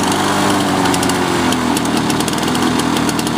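A Lawnboy Duraforce lawn mower engine runs loud and close at idle, a steady buzzing putter with a slightly uneven beat.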